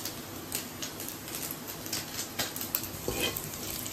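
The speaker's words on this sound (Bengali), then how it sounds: "চিকেনটা ভাজা হয়ে গেছে" Chicken fries in hot oil in a kadai, giving a steady close sizzle broken by scattered clinks and scrapes of a utensil stirring against the pan.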